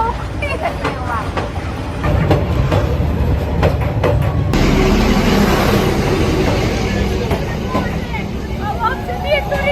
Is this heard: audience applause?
no